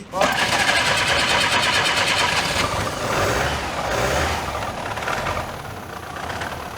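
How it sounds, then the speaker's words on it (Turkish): A rebuilt Tofaş Şahin engine turns over and runs after a cylinder head gasket repair, with a loud rough mechanical clatter and uneven idle filling the whole stretch while people talk over it. "Marşa basıyoruz."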